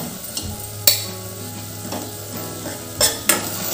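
Cumin-coriander powder, turmeric and salt sautéing in a pan over low gas for a Khandeshi urad dal, a steady soft sizzle broken by a few sharp scrapes and taps of a spoon against the pan.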